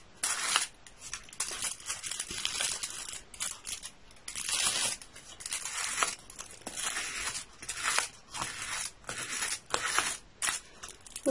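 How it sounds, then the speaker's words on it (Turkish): Piece of cardboard rubbed over a leaf to flatten it during leaf art, close scraping and crinkling strokes in repeated bursts with short gaps. "Şöyle bir karton yardımıyla düzlüyoruz."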